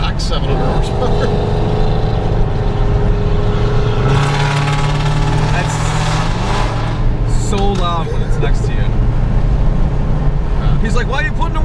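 A stock 700-horsepower Dodge Hellcat heard from inside the car, its engine droning and rising in pitch as it accelerates, with people talking over the steady road and motor noise.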